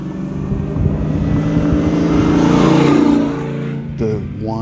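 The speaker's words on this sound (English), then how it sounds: "whine of the supercharger and the fun of knowing you've got all that power underneath your right foot" A supercharged LSA V8 in a 1968 Chevrolet Camaro pro touring build rumbles loudly and steadily, swelling in a rev with a faint whine before dropping back, then a short blip near the end.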